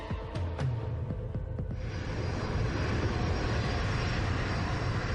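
Boeing 747 jet airliner engines in flight over the Pacific, a steady, dense roar that stays loud and unbroken throughout.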